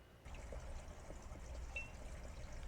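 Water pours and trickles out of a refillable plastic watering bottle set into a garden planter, a faint steady flow close by with no talking.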